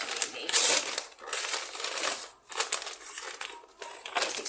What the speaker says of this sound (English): I'm just going to tear the paper off.